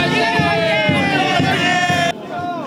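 Younger students cheer senior classmates leaving school before the college entrance exam, a loud crowd shouting and whooping in unison with a bright tonal fanfare ringing through before it cuts off abruptly.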